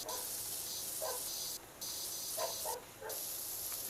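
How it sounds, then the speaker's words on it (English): Steady high-pitched water jet hiss from a pressure washer in the game PowerWash Simulator 2, spraying continuously with two brief cut-offs as the trigger is released. "you're just spraying it, but you're not able to get everything off"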